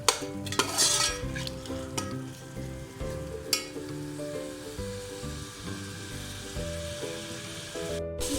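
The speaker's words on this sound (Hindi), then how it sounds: "अब इसमें कटे हुए टमाटर डाल देंगे" Chopped tomatoes fry with ginger garlic paste for a chicken biryani, a steady close sizzle broken by the scrape and clink of a spoon stirring the pan.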